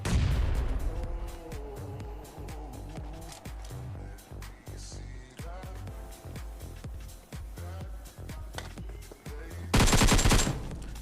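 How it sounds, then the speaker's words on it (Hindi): Gunfire in a mobile battle-royale shooter game, rapid bursts of shots throughout over a steady game soundtrack, with a louder, harsher burst near the end. "तभी हमें आगे से भी कुछ शॉट सुनाई देते"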